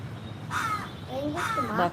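A crow caws twice nearby, two short harsh calls about a second apart over a quiet background.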